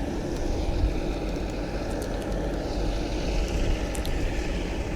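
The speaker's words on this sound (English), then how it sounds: "that wind is blowing." Wind blows steadily outdoors on a warm summer road trip, a constant broad low roar and buffeting on the microphone, loud and unbroken with no talking.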